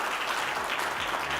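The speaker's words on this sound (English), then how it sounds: "please give them a round of applause as they leave this stage." Conference attendees applaud as panel speakers leave the stage, a soft, even wash of clapping that stays faint and steady throughout.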